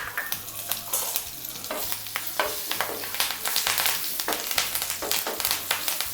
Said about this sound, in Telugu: పోపు చిటపటలాడేంత వరకు వేయించుకోవాలి.